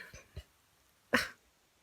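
Inside a tent during a Colorado snowstorm, a dog gives a few short, close vocal grumbles, two soft ones followed by a louder huffing yelp, with quiet pauses between.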